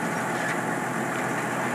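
A sailboat's inboard engine runs steadily at reduced RPM while overheating, a continuous droning hum with no break and no talk.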